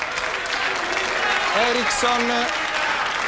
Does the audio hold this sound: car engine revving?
no